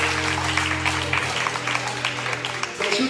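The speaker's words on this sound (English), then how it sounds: "Give them a hand clap." A church congregation at a Sunday service claps together, a dense patter of hand claps mixed with murmuring voices and a low hum.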